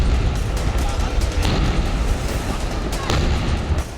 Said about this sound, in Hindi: फिर एक के बाद एक सिलेंडर में धमाके होने लगे